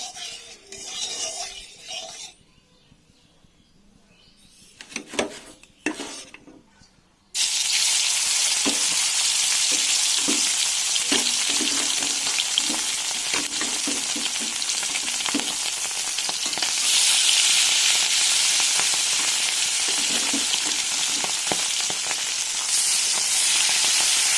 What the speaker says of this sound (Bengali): দিয়ে দিয়েছি কড়াইয়ে তেল মাছ ভাজার জন্য